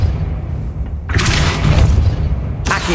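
A Depulso spell cast in Hogwarts Legacy, a deep game boom followed by a bright, crackling magical burst, loud and close, with a second burst beginning at the end.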